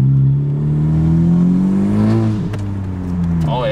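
Honda Civic engine with a PRL Cobra intake, PRL downpipe and front pipe and a muffler delete, revving loud and close as the pitch climbs steadily, dips sharply, then settles.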